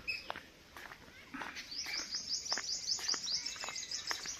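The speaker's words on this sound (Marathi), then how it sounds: "आजूबाजूला पक्षी चांगले ओरडतात" Birds calling around a Konkan village in the early morning, with repeated chirps and short whistled notes at a moderate distance, fairly faint over a quiet background.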